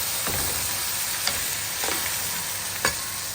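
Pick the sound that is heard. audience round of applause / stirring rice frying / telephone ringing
stirring rice frying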